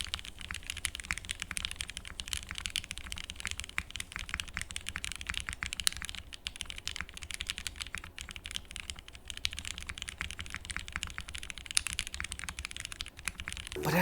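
Steady, fast typing on a Valli60 gasket-mounted mechanical keyboard with a flex-cut plate, a continuous run of close, crisp keystrokes with one louder press near the end and no voices.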